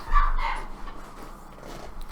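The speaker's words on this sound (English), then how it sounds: "I could hear the beep of her horn and the barking dogs in the background" A dog barks once or twice in the distance, faint against a low background hum.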